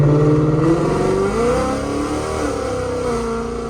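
A loud Ford Mustang GT 5.0 V8, driven in Sport Plus mode, revs hard close up from inside the car. Its throaty roar rises and falls with shifting pitch before settling into a rumbling cruise, with no talking.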